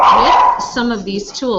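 A pet dog barks at home during an online book-study call, giving short yips and barks close by, mixed in under a person's ongoing speech.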